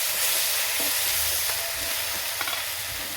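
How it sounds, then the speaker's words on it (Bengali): Ground poppy seed paste is stirred in a hot pan, a loud continuous hissing sizzle with a few faint scrapes of the spoon, no talking. "এই পোস্তটাও আমি একটু নাড়াচাড়া করে নেব।"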